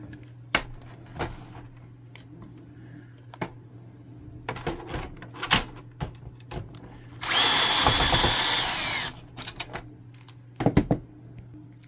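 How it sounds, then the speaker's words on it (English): A power screwdriver with a Phillips tip backs screws out of a Canon Pixma TR7520/TR8520/TR8620 printer; scattered clicks and taps lead up to one loud, steady whirring burst of about two seconds, followed by a few more knocks. "You need a Phillips head screwdriver tip. That one screw."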